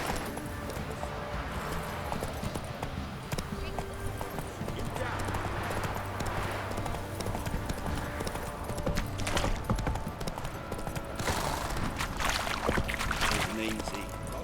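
Roach the horse in The Witcher 3 walks with steady clip-clop hoofbeats, the rhythm continuing throughout at moderate volume, with a faint whinny and game ambience underneath.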